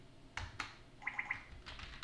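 Several distinct keystrokes on a computer keyboard while a command is typed on Alpine Linux, including a quick burst of three light taps mid-clip, close and clear over faint room noise with no voices.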